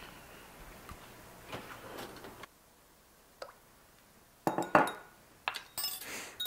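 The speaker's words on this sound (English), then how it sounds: "And whisk it." Whisking a lemon juice, olive oil and Dijon mustard dressing in a bowl: close, intermittent metallic clinks and taps, quiet at first, then louder bursts of rapid clinking toward the end, with no talking.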